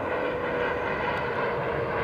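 Steady, loud aircraft engine roar at Dulles Airport, a continuous broadband rumble that holds level without a break and no talk over it.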